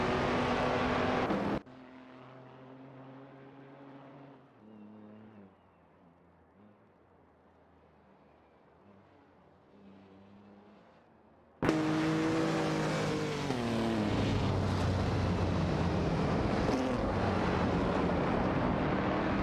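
Racing cars in an AI-driven racing video game, among them a Mercedes-Benz 300 and a Maserati 3500 GT. Loud engine drones drop to a quieter stretch of tonal whines, then surge back loud and dense.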